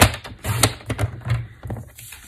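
A paper trimmer slices through cardstock, with a series of close, dry scraping and tapping strokes as the blade slides and the sheet shifts, no voices.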